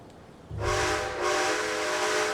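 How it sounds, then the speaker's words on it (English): A train whistle in the Diablo County RP video game sounds loudly from the half-second mark, a steady harmonic blast that dips briefly and swells again into a second, longer blow with no talking. "one burst of the whistle sounds almost accidental. So I like to do two."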